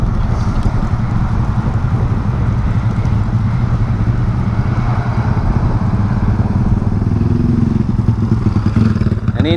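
A modified 150cc motorcycle engine runs loud and close, a constant rough throbbing drone with wind buffeting the microphone throughout.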